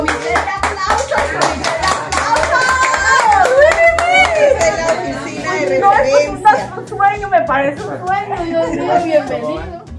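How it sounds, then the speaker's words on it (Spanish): Audience applause at a regional hospital visit by a governor: steady clapping from a crowd throughout, mixed with chatter and raised voices. "¡Comité de aplausos!"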